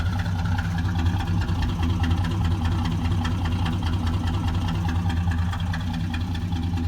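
A 1966 Ford XR Fairmont with a six-cylinder engine idles outdoors, a steady, throaty, close rumble with an even low pulse throughout.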